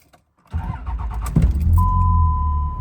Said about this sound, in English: I'm going to start the truck again.